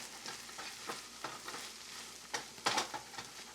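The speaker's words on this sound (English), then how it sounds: "We're going to give this a good mix, and this will be our Sosis Bandari." Fried onions and hot dog pieces for Sosis Bandari are mixed in a pan, producing a series of close scraping stir strokes over a gentle sizzle, with a louder burst of scraping near the end.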